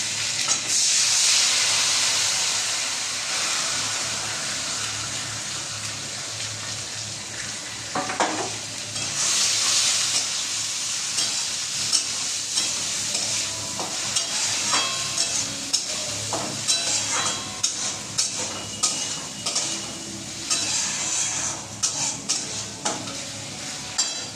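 Rice with chopped ginger fries in a pan with a constant hissing sizzle. A spoon stirs and scrapes against the pan in regular clicks over it, and no one speaks.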